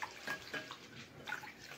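Water sloshing and swishing as rice is rinsed in a container, soft splashy churning with a few brighter splashes, fairly quiet and close.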